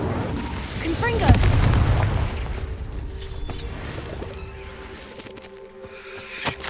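In the Hogwarts Legacy video game, a Confringo fire-blast spell goes off with a loud booming burst and a rumbling crackle that fades into ambient game sounds.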